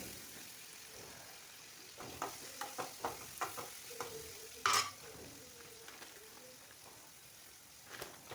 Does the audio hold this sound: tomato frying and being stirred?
yes